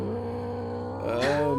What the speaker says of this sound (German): Oh Gott, die schönste Katze der Welt